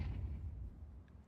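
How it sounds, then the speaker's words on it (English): A flashbang grenade going off in Counter-Strike 2, a faint, low, muffled boom that tails off over about a second, with no talking. "Throwing flashbang."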